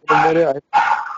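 Dogs barking during a podcast conversation, two loud close harsh bursts with a short gap between them, heavily overlapping the talk.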